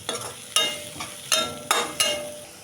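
Onions and spices frying in a pan for veg Manchurian are stirred with a spoon, giving five or six sharp scraping strokes at uneven intervals over a soft sizzle, close and alone.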